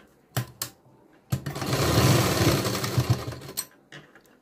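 A sewing machine stitching a blouse tassel runs in a loud, steady burst of about two seconds, bracketed by short clicks and brief starts, close by and without talk.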